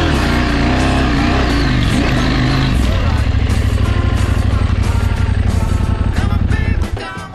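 A motorcycle engine in a sand pit revs hard on throttle, a loud, rough, continuous roar that rises and then drops off at the end, with people talking over it.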